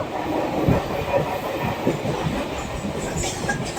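A train rolls along the rails nearby, its wheels producing a continuous low rumble with irregular clacks and thumps.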